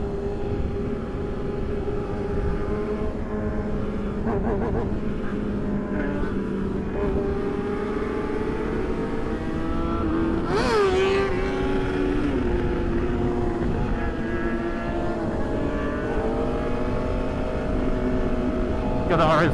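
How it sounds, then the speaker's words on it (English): An Aprilia RSV4 superbike engine among a large Sunday group ride, a steady loud engine drone with a sharp rising rev near the middle and shifting tones from other bikes close by. "Got the RSV4 right there, bro. Oh yeah, that thing sounds nice."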